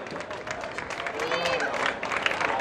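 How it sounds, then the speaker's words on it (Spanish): Crowd applause at an outdoor 800m M60 athletics final, steady clapping throughout under an announcer's voice over the loudspeaker. "Fuerte el aplauso"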